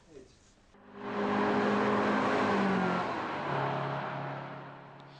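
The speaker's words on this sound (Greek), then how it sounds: "οι συμμετέχοντες οδηγοί πάτησαν τέρμα τον γκάζι" Mazda Miata race cars at full throttle on the Serres circuit in Greece during a track day, a loud, sustained engine roar building after a quiet start, with rising and shifting tones as the cars accelerate nearby.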